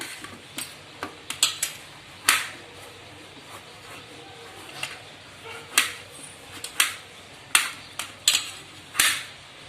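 Bottle gourd being finely chopped with a knife on a board, giving sharp, irregular chopping taps in quick bursts, close up over a quiet kitchen background with no speech.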